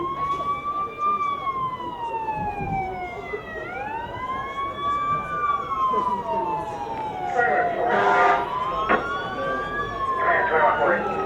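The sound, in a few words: emergency vehicle siren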